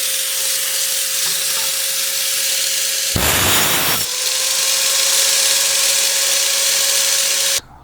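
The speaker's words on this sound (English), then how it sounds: "grind off those raised concrete lumps so the sleeve can slide in nicely" An angle grinder grinds raised concrete lumps off a garden post, a loud steady whine and hiss with a brief harsher rasp in the middle before cutting off abruptly.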